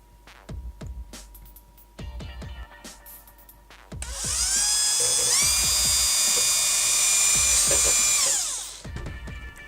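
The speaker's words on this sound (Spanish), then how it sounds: "cuando yo apoyo el taladro" An electric drill whirs loudly for several seconds drilling a hole in a PS3 console casing, spinning up and winding down, with scattered taps and handling clicks before and after.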